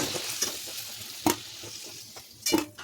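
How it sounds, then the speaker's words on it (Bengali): Potatoes fried in hot oil until golden, then scooped out with a spoon: a steady sizzle broken by a few sharp scraping clinks against the pan, close and clear with no talk. "আলুগুলো ভাজা হয়ে গেল, একবার কালার ধরা অবধি আলুগুলো সুন্দর করে ভেজে নিলাম। এখন আলুগুলো তেল থেকে তুলে নিচ্ছি।"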